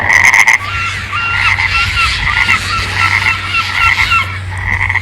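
A frog croaking outdoors after rain, close and loud, with a rapid run of repeated croaks after a brief sharp burst at the start.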